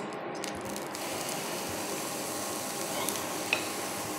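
Dosa batter being spread thin with a spoon across a hot induction pan on low heat, a steady soft sizzle with faint scraping throughout, a couple of small clicks near the end.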